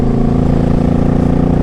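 A 2006 Suzuki Boulevard C50T cruiser with an aftermarket exhaust rumbles steadily nearby, a loud, deep, even engine drone with no voices.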